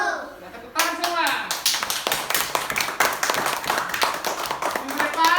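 A school class claps hands together, a dense, brisk, close patter of claps running nearly throughout, while a voice speaks at the start and children's voices come faintly underneath.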